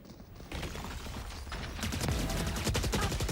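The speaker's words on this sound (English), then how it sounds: "you can hear the turret on site" Rapid automatic fire from a turret on a bomb site during a Valorant esports grand final, a steady stream of shots that starts partway in and grows louder and denser toward the end.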